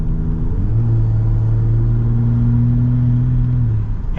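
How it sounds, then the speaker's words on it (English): A 2021 Ford F-150 Raptor's exhaust drones steadily while driving, a loud low rumble heard from the cabin with the pitch shifting slightly as it changes speed. "I'm actually gonna open up the window in the back so you guys can hear a little bit more from the exhaust"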